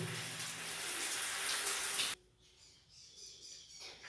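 Shower water pours in a steady, loud rush during a bath for triplet children, then cuts off abruptly halfway through, leaving only faint room sound.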